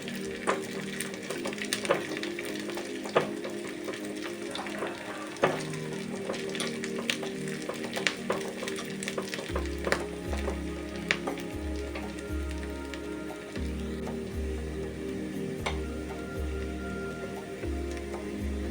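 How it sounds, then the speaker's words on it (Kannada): Onions and curry leaves fry in a pan with a steady, close sizzle and crackle that runs throughout, with a low rhythmic thumping in the background in the second half. "ಈರುಳ್ಳಿ ಜೊತೆ ಈರುಳ್ಳಿ ಚೆನ್ನಾಗಿ ಫ್ರೈ ಆಗ್ತಾ ಬಂದಿದೆ"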